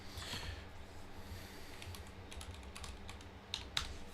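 Steady, rapid keystrokes on a computer keyboard patter close by over a low background hum, ending with two sharper, louder key clacks.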